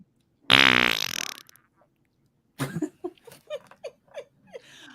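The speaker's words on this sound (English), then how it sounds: "I need one more big fart sound." A loud, long fart sound effect blasts out with a rattling buzz, then after a pause several shorter sputtering bursts follow in an uneven series, with no talk over them.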